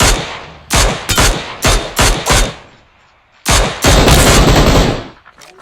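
Gunfire in the video game Raade, loud bursts of rapid automatic shots with sharp repeated reports, broken by short gaps and ending in a longer sustained volley.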